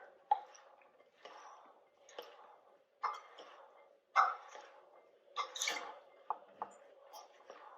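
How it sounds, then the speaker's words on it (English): A spoon stirring a cold grain salad with frozen peas in a bowl, a series of soft, moist squishing and clicking strokes at an uneven pace, close and fairly quiet. "I'm going to add about a 1/2 teaspoon more and give it a stir"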